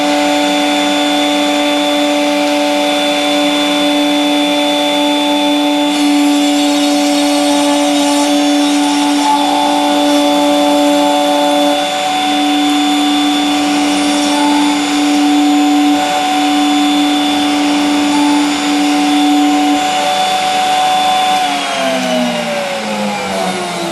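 A router cuts a mortise in a board for loose tenon joinery, giving a loud, steady high whine that holds throughout and drops in pitch near the end as the motor winds down.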